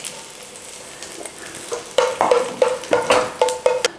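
Onions frying in a pan for chicken dopiaza, a soft sizzle at first, then a series of sharp scraping stirs in a quick rhythm over the hiss, close and clear.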